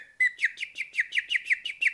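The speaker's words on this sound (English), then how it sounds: "Is that bird song?" A bird sings a steady, rhythmic series of about ten bright, sharp chirps, evenly spaced and fairly close, with no other sounds around it.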